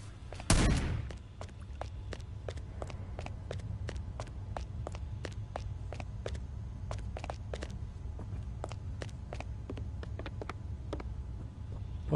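Gunshots at shooting targets in the video game Hitman: Blood Money, a loud opening blast followed by a long run of evenly spaced sharp shots, fairly quiet overall over a low steady hum.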